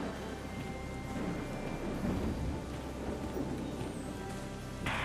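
A rumbling thunderstorm with steady rain fills a battlefield scene in the video game Valkyria Chronicles 4, a dense, continuous low roar at moderate volume with no talk over it.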